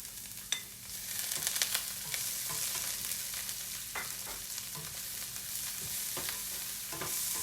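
Garlic and onion fry in a pan for fried rice, a steady close hiss with scattered crackles and a few sharp pops, accompanied by light stirring scrapes and no voices.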